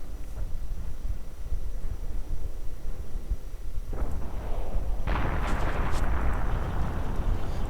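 Artillery shells land in a World War II real-time strategy battle against advancing riflemen, with low rumbling impacts building to heavy, bursting explosions in the second half, loud and dense.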